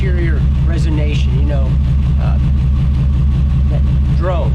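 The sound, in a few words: car engine with exhaust dumped before the axle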